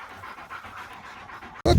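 Tired hunting dogs pant steadily after a long boar chase, a continuous rapid breathy rhythm close to the microphone, ending with a sudden loud bump or handling noise.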